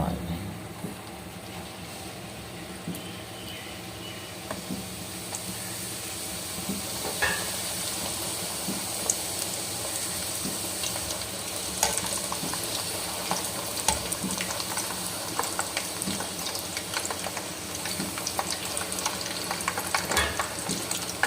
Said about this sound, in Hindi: इसे अब हम घी में डालेंगे।